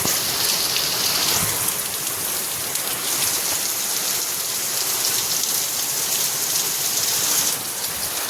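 Heavy rain pours down in a dense, constant patter, loud and continuous from start to finish.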